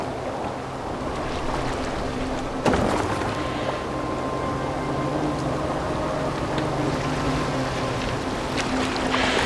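A Viking longboat in Assassin's Creed Valhalla moves across open water, with a steady wash of water and wind, creaking and a sharp splash near the start.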